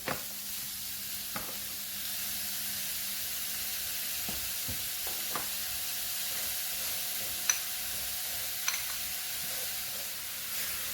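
Vegetables brushed with oil grill on a panini press, giving a steady, moderate hiss and sizzle broken by a few scattered light clicks.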